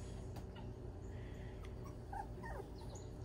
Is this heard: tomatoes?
no